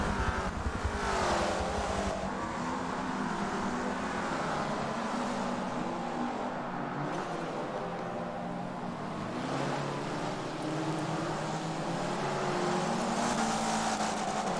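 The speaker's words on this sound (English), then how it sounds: "Leftwix, hashtag Leftwix, finding himself between the white liveried car and the predictably magenta-colored NVIDIA car" Race car engines roar continuously in the Forza video game during a Forza Spec Racing Series event, several cars running close together with sustained, loud engine drone and shifting pitch throughout.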